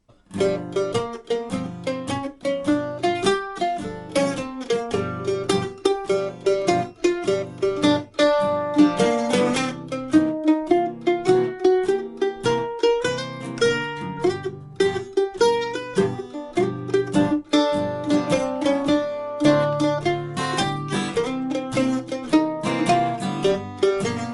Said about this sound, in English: Welcome to this introduction to the 12-bar blues on the mandolin.